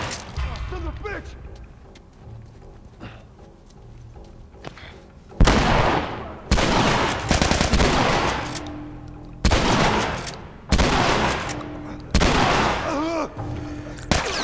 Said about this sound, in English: The shotgun is not an ideal weapon for long range or even mid range